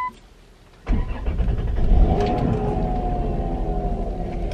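A car on a street starting up, a sudden low engine rumble that settles into a steady running drone, close and fairly loud with no talk.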